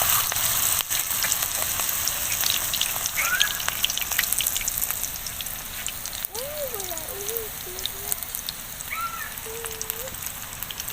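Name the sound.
battered coriander-leaf pakora frying in oil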